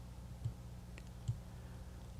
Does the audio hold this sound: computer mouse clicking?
yes